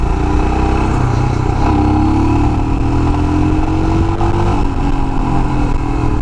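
Royal Enfield Himalayan BS IV fuel-injected motorcycle engine revving up steadily toward high RPM, a loud, continuous close-up drone with rising pitch and no talk.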